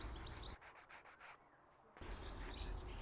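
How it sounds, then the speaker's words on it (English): Ends of PVC pipe are sanded by hand in steady back-and-forth rubbing strokes, close and scratchy, pausing briefly in the middle before resuming, with faint birdsong outdoors behind. "I'm also sanding the ends to try and smooth them out a little bit."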